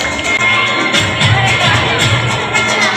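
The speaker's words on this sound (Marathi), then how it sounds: "मुलगा आहे, याच्यासाठी जोरदार टाळ्या वाजवायच्या आहेत." Outdoor crowd at a village Independence Day celebration in Dapode, Bhiwandi, cheering and clapping steadily for a student, a dense, loud, continuous wash of applause and crowd noise throughout.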